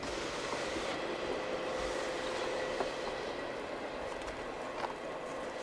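A distant CSX freight train rolls by steadily with a low rumble and faint wheel clatter and squeal, heard over a constant background hum.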